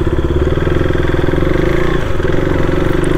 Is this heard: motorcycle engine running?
yes